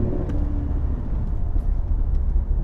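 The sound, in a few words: car engine accelerating smoothly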